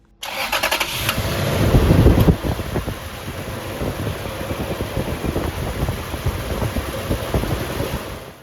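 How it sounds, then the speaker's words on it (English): A 2001–07 Toyota Sequoia's 2UZ-FE V8 starts with a brief cranking surge, then settles into a steady, even idle heard close up in the engine bay, with no voices. "The 2UZ FE engine in this car is supposed to be very smooth"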